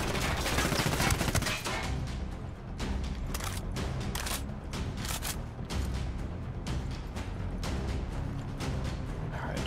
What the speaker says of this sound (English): taking fire in the building